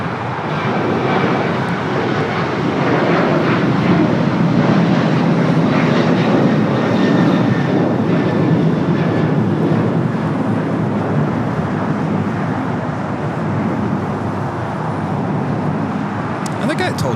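A SkyWest airliner takes off from runway 25 right at LAX, a loud, sustained jet roar that stays steady across the whole stretch, with radio voices faintly beneath.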